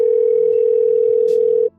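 A telephone dial tone hums as one steady, loud, unbroken pitch for well over a second, then cuts off abruptly, with no voices over it.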